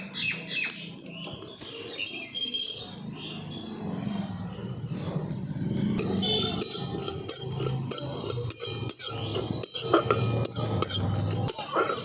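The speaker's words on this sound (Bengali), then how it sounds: "এই সব মশলাগুলোকে আমি প্রথমে শুকনো কড়াতে একটুখানি ভেজে নেব" Whole coriander, cumin, fennel, peppercorns and two dried chillies dry-roasting in a wok, with steady stirring scrapes and light rattling of the seeds throughout, growing a little busier halfway, with no talking.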